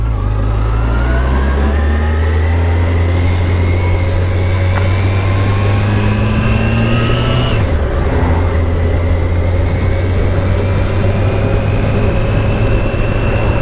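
A motorcycle rides along at steady speed, its engine droning loud and close with a rising pitch as it accelerates, a brief dip around a gear change, then climbing again under constant wind rush.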